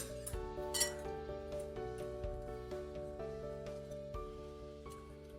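A spoon clinks steadily against a bowl while a thick batter of chili powder, garlic and ginger paste, salt and water is mixed, the light rhythmic taps sitting under a low, continuous hum.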